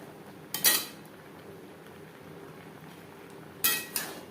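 Kochur shak, taro leaves cooked with chickpeas and coconut, is turned over in a pan: two brief metallic clinks and scrapes of the spoon a few seconds apart over a quiet, faint background.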